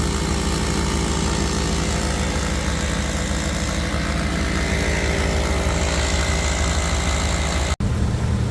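The engine of a van runs continuously at a steady idle, a loud, even mechanical drone that holds throughout before a brief sharp break near the end, with no talking.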